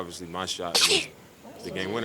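A single sneeze bursts out during a postgame basketball press conference, loud and close, cutting between stretches of a man's speech.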